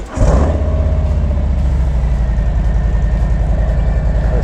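Harley-Davidson M8 Softail motorcycle with a newly fitted Fox rear shock, its V-twin rumbling up close and loud after a brief start, settling into a steady throbbing drone while riding.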